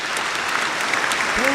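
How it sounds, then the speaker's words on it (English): Loud, dense audience applause rolls on steadily for a moment, with a voice briefly heard at the very end. "We got to get this man another round of applause."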